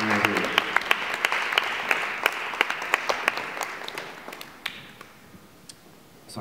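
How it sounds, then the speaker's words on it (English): Indoor audience applause for a team standing together, a dense wash of clapping with sharp individual claps standing out, loud at first and then thinning and fading toward the end. "if you guys wanna give them a round of applause"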